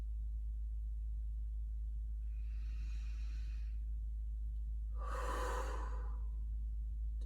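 Two slow breaths during a seated chair yoga pose, a soft nasal inhale followed by a louder, fuller exhale, close to the microphone over a constant low hum.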